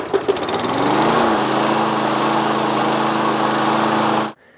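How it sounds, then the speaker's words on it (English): A walk-behind lawn mower engine catches and runs steadily at close range, a loud continuous buzzing drone that holds for about four seconds before it cuts off abruptly into silence. "I'm firing it up just for a second so that the oil can heat up a little bit and runs out more."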